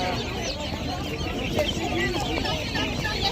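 Young ducklings and chicks, fifteen to twenty days old, peep and cheep in a busy bird market in Pitnak, Khorezm, a dense steady chorus with nearby voices talking over it.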